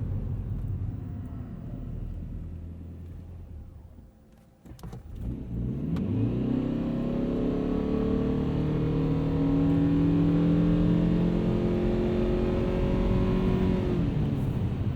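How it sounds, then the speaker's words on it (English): A 2022 Ford Maverick Hybrid XLT pulls away hard from a stop. A brief dip gives way to a steady, rising engine drone heard close from inside the cabin, with no talking. "Let's see how this accelerates off the line here."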